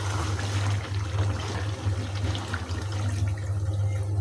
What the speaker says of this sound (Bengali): একটু ঝোল দিয়ে দিলাম।